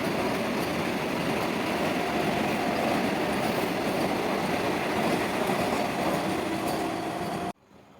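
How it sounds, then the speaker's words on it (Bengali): The Howrah–Kamakhya Vande Bharat Sleeper Express runs through Kishanganj railway station at night with a close, loud, continuous rumble and rattle of wheels on track that cuts off abruptly near the end. "হাওড়া থেকে কামাখ্যাগামী বন্দে ভারত স্লিপার এক্সপ্রেস ট্রেনে, যে ট্রেনটি কিষানগঞ্জ রেলওয়ে স্টেশনের থ্রু পাস বেরিয়ে যাচ্ছে"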